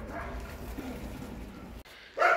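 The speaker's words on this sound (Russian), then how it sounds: "Прилетела целая шайка собак тут. Вот, кидается на нас." Stray dogs near a railroad bark in a rough burst at close range, a loud cluster of yaps rising sharply at the end after a noisy stretch of rustling and movement.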